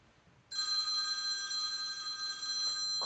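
A telephone bell starts suddenly and rings continuously in a bright, sustained electronic trill, close and clear with no talk over it.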